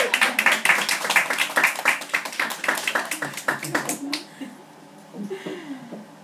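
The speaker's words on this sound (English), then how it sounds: "Give him a big round of applause" Audience applause breaks out during a training session, a dense burst of clapping for several seconds that fades into a few scattered claps and a brief murmur of voices.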